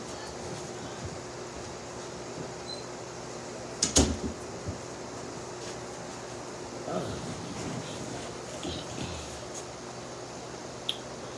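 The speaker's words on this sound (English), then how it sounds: "My daughter too loud, and I gotta close this door." A single sharp thump of a door shutting nearby, followed by faint shuffling and rustling against a steady background hiss.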